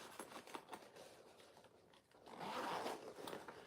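A zipper on the shallow inside pocket of a small handmade crossbody bag is drawn once in a close, scratchy run after some quiet fabric handling.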